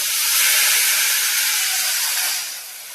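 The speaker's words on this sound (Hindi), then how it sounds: "पैन में घी ले लेना है और उसमें लहसुन को डाल लेना है और उसमें ये गोश्त को ऐड कर देंगे" Garlic and meat hit hot ghee in a pan, producing a loud, steady, steamy hiss that carries without any speech and eases off slightly at the end.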